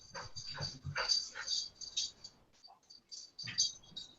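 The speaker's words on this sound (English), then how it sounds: "Sorry, my dog's here." A pet dog whimpers and whines in a series of high, thin, wavering cries indoors, close to the microphone, with brief pauses between bursts and a faint voice underneath.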